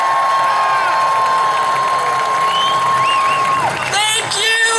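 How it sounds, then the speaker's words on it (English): A large outdoor crowd at a Seattle rally cheers, whoops and applauds loudly and continuously, with a sustained roar of many voices close and far. "give a warm welcome and a hearty round of applause"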